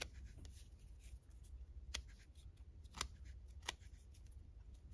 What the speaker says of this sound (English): I'm just going to use my scissors for this.